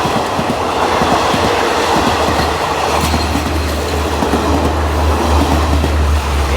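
A Hitachi diesel locomotive, number 516, hauls a rapid train on Thailand's southern line with a loud, close, continuous rumble, rail clatter and a deep engine drone throughout.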